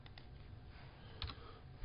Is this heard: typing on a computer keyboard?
yes